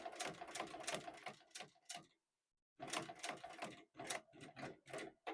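Rapid, rattling stitching of a sewing machine working on a messenger bag, in two close bursts separated by a short silent pause, each with a quick mechanical chatter.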